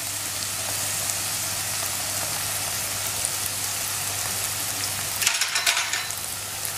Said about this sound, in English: Just fry it for 2-3 minutes and put the heat on medium